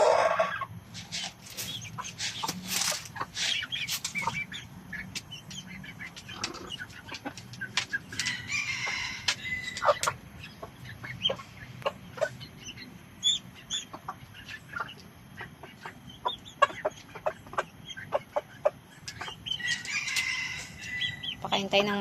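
Chickens cluck and squawk around a spacious backyard with a coop, with scattered calls and some wing flapping, while a person talks now and then.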